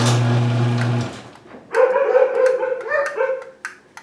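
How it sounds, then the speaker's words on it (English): Dogs barking indoors behind a closed garage as a Liftmaster-type garage door opener runs: a low mechanical hum first, then a burst of sharp, excited barks and yips that trail off into whimpers. "You can hear my dogs in there. They don't like the door."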